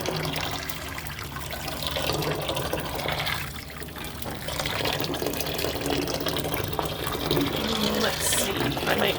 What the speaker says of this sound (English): And then boiling water.